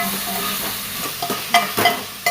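Tomatoes for vegetable kurma sautéing in a home kitchen pan, a steady close hiss with a few sharp stirring scrapes and clicks near the end.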